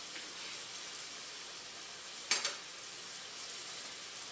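Pieces of chicken for a chicken curry frying in a pan, a steady quiet sizzle with one brief louder crackle or stir partway through, no talking.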